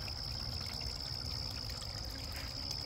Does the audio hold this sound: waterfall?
yes